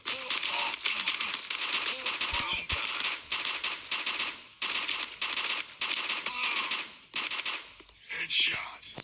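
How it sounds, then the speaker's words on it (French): A submachine gun fires in the mobile shooter Gun of Boom in rapid rattling bursts broken by short pauses. The shots are crisp, and faint game sounds sit underneath. "Faire un peu de kill à la mitraillette."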